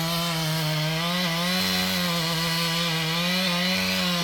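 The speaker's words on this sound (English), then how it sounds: "This is a chainsaw." A chainsaw runs continuously at a steady, loud drone, its engine pitch wavering slightly as it cuts.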